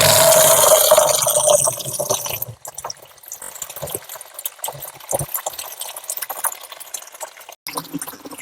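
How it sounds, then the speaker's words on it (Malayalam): Water gushes loudly into a pet dog's swimming pool for a couple of seconds, then cuts off and gives way to scattered clatters, knocks and light splashes at a lower level. "ഡെയ്മൻ്റെ സ്വിമ്മിങ് പൂളാണ് ഇത്. അതിനകത്തിലേക്ക് വെള്ളം നിറയ്ക്കാൻ പോവുക."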